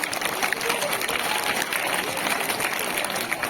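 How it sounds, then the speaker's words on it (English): Applause from parents and students at a school mid-term toppers award ceremony, a moderately loud, continuous patter of clapping from a large room, with faint voices mixed underneath. "Give a big round of applause for second standard children."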